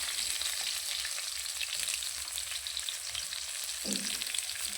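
Cut potato frying in hot oil in a kadai gives a loud, steady, close hiss and crackle of sizzling that holds throughout, with a soft stir near the end and no voices.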